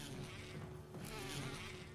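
Bees buzzing in the Resident Evil 1 video game, a steady droning insect hum that holds throughout at a moderate level, with no talk over it.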